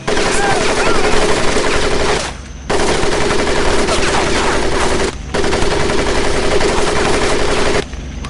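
Sustained machine gun fire rattles in Medal of Honor Pacific Assault, loud and dense in long bursts broken by two brief gaps, with no clear talk over it.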